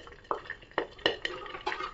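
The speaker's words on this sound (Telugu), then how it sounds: "చూసారా, పచ్చిమిర్చి పగులుతున్న సౌండ్ వస్తుంది" Green chillies fry in a covered pan for coconut chutney, giving a handful of sharp, close crackles and pops spaced irregularly over a faint sizzle.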